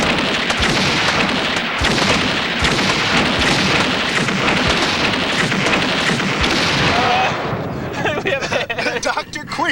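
Dense, loud burst of gunfire at point blank range at the Burning Man festival in Black Rock City, Nevada, continuous overlapping cracks for several seconds before thinning into a few scattered shots.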